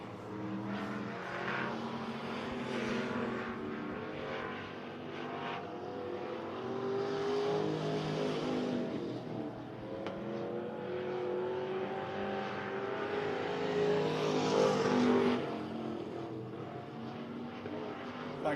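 Race cars roar around Big O Speedway during a late-race run, engines droning steadily and swelling as they pass close, with a loud surge near the end.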